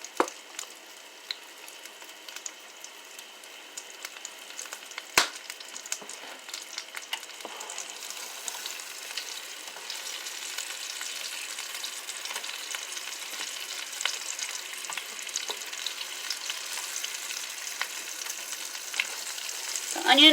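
Onions with cracked black pepper and garlic frying in a pan, a sizzle that starts sparse with scattered pops and builds to a steady, dense crackle, occasional utensil knocks, no speech.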